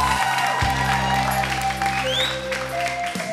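Studio audience at a televised karaoke championship claps for a singer, a continuous patter of applause that runs throughout beneath a sustained musical backing tone.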